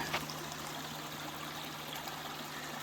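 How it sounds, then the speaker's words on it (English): A mountain stream flowing along the Appalachian Trail, a continuous soft rushing and trickling of water at a steady level with no voices. "Stream, I think I got water here."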